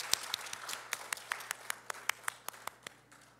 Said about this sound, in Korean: 하나님께 영광의 박수를 올려드리실까요?